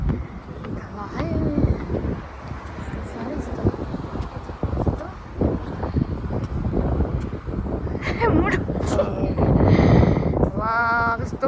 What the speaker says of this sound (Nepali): वा कस्तो हावा चलेको